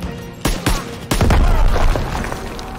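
Loud close gunfire and a heavy grenade blast in the Call of Duty: WW2 video game: a few sharp shots crack out, then a booming explosion with a low rumbling tail.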